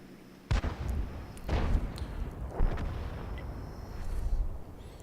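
Tier 6 artillery firing at heavily armoured Tier 8 tanks in the World of Tanks video game, several heavy booming shots with rumbling tails spaced a second or so apart under a steady battle din.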